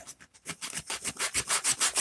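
A wooden bathroom cabinet door is sanded by hand in quick, rhythmic back-and-forth strokes, about a dozen close scrapes that speed up into an even cadence, with no talking.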